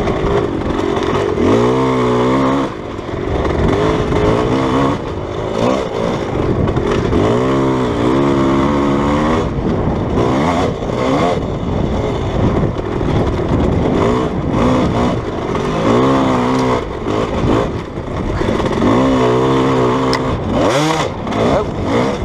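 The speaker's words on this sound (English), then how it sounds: "When dirt bike racing and stuff." Dirt bike engine revving and shifting loudly while racing around a track on hero dirt, throttle rising and falling in repeated bursts, close and continuous throughout.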